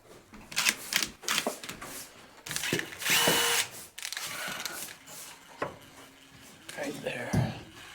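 A power drill drives screws into wood during an off-grid cabin build, giving short whirring bursts and clicks broken by pauses, with people talking nearby in between.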